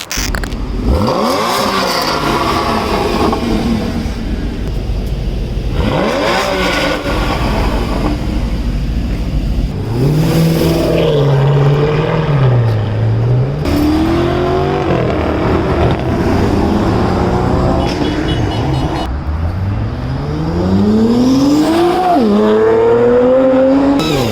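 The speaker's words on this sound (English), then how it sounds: "wait for them to launch and go because we want to hear how these cars sound" Loud, tuned car engines rev and launch one after another during a Republic Day group drive, roaring as they accelerate away with rising and falling engine pitch.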